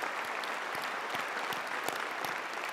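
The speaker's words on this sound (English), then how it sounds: "Let's give her a round of applause, the university secretary" Audience applause fills a university spring convocation ceremony for the university secretary, a dense, steady wash of many hands clapping at moderate distance throughout, with no voices over it.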